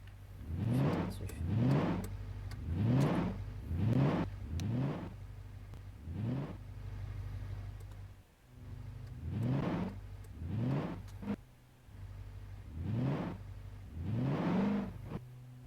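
A car engine revs up repeatedly in rising surges, each acceleration climbing in pitch before dropping back, close and fairly loud.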